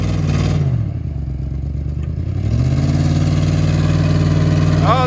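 A Ford F150 pickup truck engine revving hard during a burnout outdoors, loud and close, with the roar dipping briefly and then climbing back to a sustained high rev.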